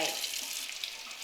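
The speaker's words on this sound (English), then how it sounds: "I'm just gonna wash my" Water runs steadily from a kitchen tap as potatoes are rinsed beneath it, a close, continuous hiss and splash with no pauses.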